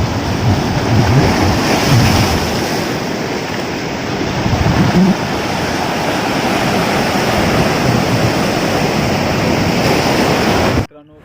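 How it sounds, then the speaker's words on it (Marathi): Big, rough sea waves break on a rocky stretch of the Sindhudurg coast near Tarkarli. Loud, continuous surf roars close by, with heavy wind buffeting the microphone, before stopping abruptly at the end. "लाट मित्रांनो खूप मोठे येत आहेत."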